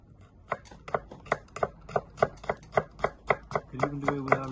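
A knife chops a red pepper into thin juliennes on a board, with about fifteen crisp, evenly spaced taps in quick succession, close and clear, and a brief tonal hum creeping in near the end.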